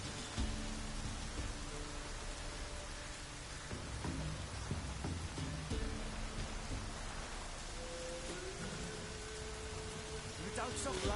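Continuous rain hisses in a Witcher game scene, a dense steady wash of falling drops with low rumbling underneath and some faint tonal background sounds.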